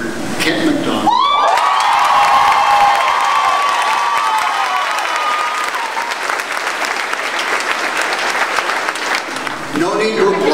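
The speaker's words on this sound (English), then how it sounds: "No need to applaud again." Loud, full applause from an assembled crowd at a college announcement, sustained clapping with scattered cheers and whoops, rising sharply and carrying on before fading at the end.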